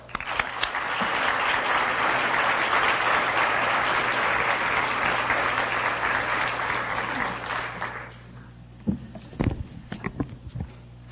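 An audience claps warmly to welcome Martin Eakes on stage, a dense sustained applause that fades out after about eight seconds, followed by a few scattered thumps and shuffles.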